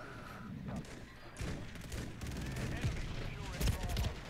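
Sniper rifle and shotgun fire in a video game, with a busy mix of muffled shots and thumps over a constant game-noise backdrop, including a few sharper blasts near the end.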